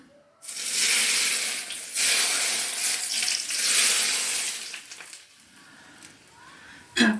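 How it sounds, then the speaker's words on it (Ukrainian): Smoking-hot oil poured over shredded cabbage and carrot for a Korean-style salad sets off a loud, hissing sizzle in several surges, fading toward the end before a short clatter. "Як тільки почне димітися, ми залиємо нашу капусту."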